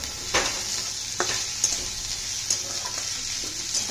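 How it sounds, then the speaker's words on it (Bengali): Carrots and beans sizzle in a small amount of oil left from frying paneer, with crushed garlic, as a spoon stirs them in a few scraping strokes over a steady close frying hiss. "আমি একটু সামান্য নাড়বো।"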